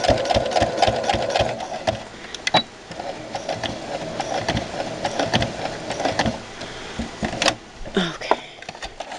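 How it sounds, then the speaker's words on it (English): A sewing machine stitches a small fabric baby bow tie, including back stitches, with a close, steady rapid mechanical chatter running throughout and brief pauses and knocks near the end. "And I'm going to start stitching. Make some back stitches."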